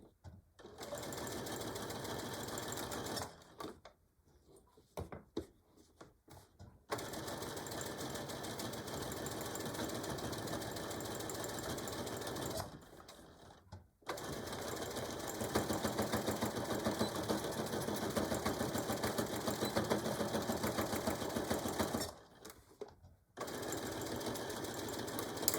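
Sewing machine stitching back and forth through a thick diaper bag handle, long steady whirring runs broken by a few brief pauses, close and loud, with no talking.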